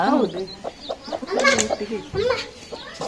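Chickens cluck and squawk in quick, uneven bursts close by, several birds calling over one another in a short, busy stretch.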